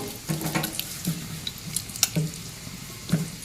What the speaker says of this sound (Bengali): তা হাত দিয়ে এইভাবে চটকিয়ে নেব।